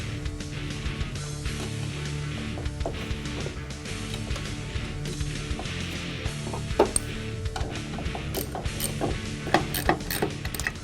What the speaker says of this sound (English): Tighten these down enough to hold it in place.